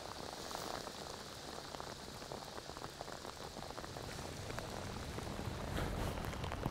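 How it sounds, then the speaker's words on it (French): Steady rain patters on a hard surface, a dense, even hiss of droplets that grows slightly heavier toward the end, with no voices. "Ah, ça n'avait pas manqué ça la pluie."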